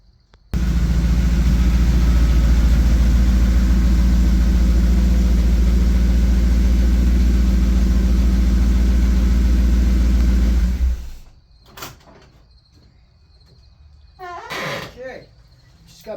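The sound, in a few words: car engine running with rebuilt Holley carburetor on a 428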